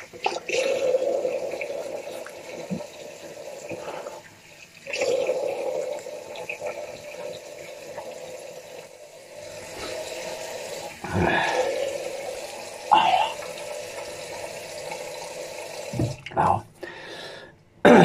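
Tap water runs into a sink as a face is wetted before shaving, a soft, close trickle and splash that comes and goes in short bursts with small drips and handling noises between them.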